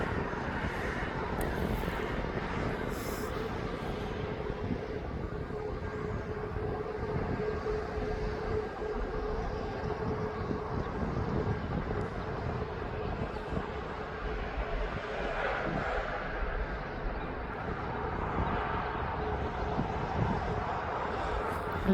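A jet airliner taxis slowly across East Midlands Airport, a steady, fairly distant engine hum with a faint whine and light wind noise running unbroken throughout.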